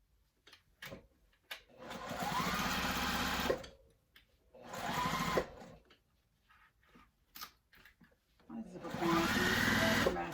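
A sewing machine stitches a quarter-inch seam in three bursts of rapid mechanical whirring, stopping between them with the needle down to pivot the fabric, with soft rustling and a quiet voice in the pauses.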